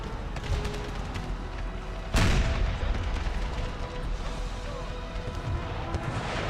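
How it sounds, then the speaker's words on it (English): Howitzers firing in the Empire: Total War battle game with a Brothers vs. Brothers Civil War mod, one loud, sharp boom standing out against a constant backdrop of distant gunfire and battle noise. "Howitzers fire."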